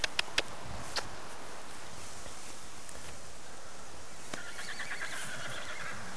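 A horse on a hunting outing gives a brief, faint, distant whinny over steady outdoor wind noise, with a few sharp clicks near the start.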